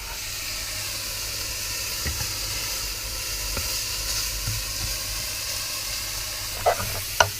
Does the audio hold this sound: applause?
no